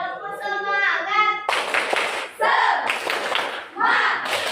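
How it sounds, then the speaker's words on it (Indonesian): A classroom of children does a rhythmic clapping chant led by a student teacher: chanted voices open, then loud bursts of unison hand claps alternate with short chanted calls in a repeating pattern. "Tepuk semangat."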